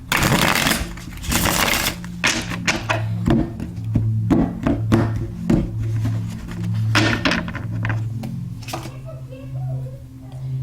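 Tarot cards are riffled and shuffled repeatedly with soft slaps and thumps, close up, while a low hum runs underneath.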